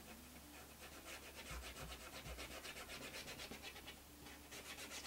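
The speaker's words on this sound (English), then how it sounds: "So what we'll do is we'll just go ahead and dry rub right from the top down." Steady dry rubbing of a surface with a Wild Orchid medium, worked from the top down with sticky mesh nearby; a continuous close scratchy, woody friction with a quick back-and-forth rhythm and no talk.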